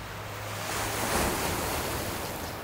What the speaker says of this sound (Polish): Zobaczcie, jak przepięknie woda uderza w te skały, jak ona się rozbryzguje na wszystkie strony.